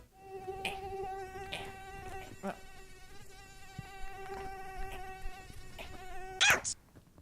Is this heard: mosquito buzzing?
yes